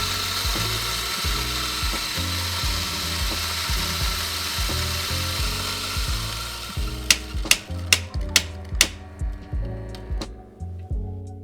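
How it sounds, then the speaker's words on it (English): A Mazzer coffee grinder grinds a small batch of coffee beans nearby with a steady whirring drone and rhythmic low pulses, followed by a series of sharp clacks and knocks as it winds down. "and then start the grinder"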